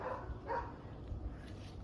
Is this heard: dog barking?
yes